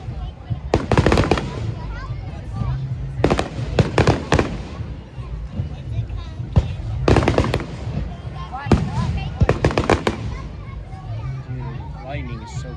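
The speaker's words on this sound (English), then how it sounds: "I like how they got that little mini fireworks show" Distant fireworks burst in a few spaced clusters of booming, crackling pops over steady outdoor background noise, with voices talking faintly in the surroundings.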